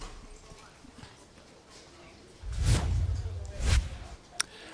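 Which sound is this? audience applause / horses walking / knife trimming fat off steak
horses walking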